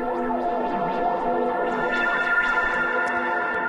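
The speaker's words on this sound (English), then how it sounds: "Lots and lots of reverb going on. And my little ping pong delay that is really just messing with the time" Ableton audio processed through a grain delay, heavy reverb and a ping pong delay, a washy, smeared wall of sustained tones with repeating echoes and shimmering bright swells, steady and loud with no voice.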